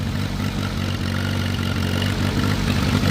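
A riding mower tractor engine runs steady and loud at raised revs, a continuous close rumble with no talking over it.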